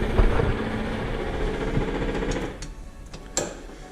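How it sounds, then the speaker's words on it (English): The fuel pump on a 1972 VW Bus runs with a rapid mechanical ticking over a rough engine rumble, fairly loud and close, easing off partway with a couple of sharp clicks near the end. "the fuel pump works, I think"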